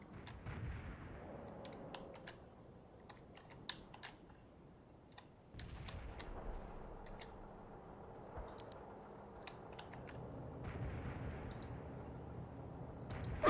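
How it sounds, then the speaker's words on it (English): Incoming artillery fire in the World in Conflict: Soviet Assault battle, a real-time strategy war game: repeated booming blasts and sharp cracks over a low rumble, with scattered clicking throughout. "Incoming fire."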